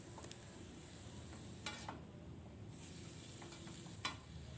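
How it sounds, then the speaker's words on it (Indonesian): Bean sprouts, broccoli and egg are stirred in a pan, giving a faint, steady sizzle with occasional soft scrapes and clicks of the utensil. "ini masih lanjut saya aduk teman-teman, karena belum benar-benar tercampur merata"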